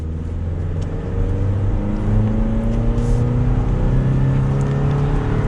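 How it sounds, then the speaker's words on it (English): A 2022 Toyota Tacoma SR Access Cab pickup with a four-cylinder engine accelerates, its engine drone climbing steadily in pitch and holding loud and close throughout, with no talk over it. "We'll give it another quick acceleration here,"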